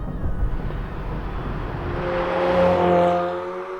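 A 2019 McLaren 720S sports car with 710 horsepower sends out a steady engine rumble that swells into a rising whine, then eases off slightly.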